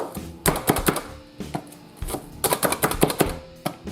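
A knife chops onion on a cutting board for potato salad, giving close, crisp chops in quick irregular bursts separated by short pauses.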